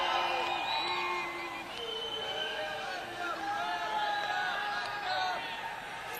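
Studio audience at a 1988 Christmas TV comedy special cheers and whoops, with a mix of excited shouts and crowd chatter rising and falling across several seconds rather than clear clapping.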